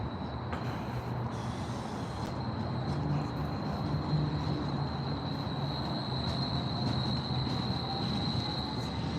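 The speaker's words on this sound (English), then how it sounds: "This is our streetcar over here." A streetcar rolls past on city rails with a continuous rumbling clatter and a high, thin wheel squeal sustained throughout, steady and fairly loud as it goes by.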